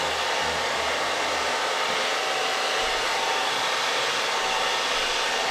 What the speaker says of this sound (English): You can use the blow dryer here to get it over those edges.